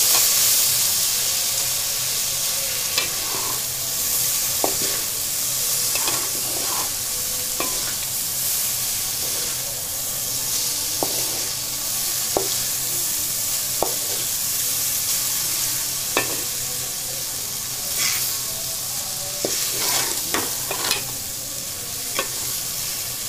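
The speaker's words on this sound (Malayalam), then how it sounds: "നന്നായിട്ടൊന്ന് മിക്സ് ചെയ്ത് കൊടുക്കാം." Maggi noodles and vegetables steadily sizzling in a hot pan, with repeated scraping and clinking of a spoon stirring at an irregular rhythm throughout.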